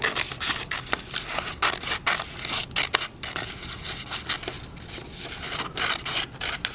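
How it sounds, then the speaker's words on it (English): Scissors snip steadily through paper, cutting out a simple elephant shape for a collage, with rapid repeated close crisp cuts and rustling paper, no voices. "Okay, I'm just going to cut him out."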